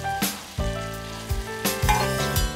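Luffa being stir-fried in a wok, with fried eggs to follow, gives a steady sizzle broken by several loud scraping stirs of the spatula against the pan.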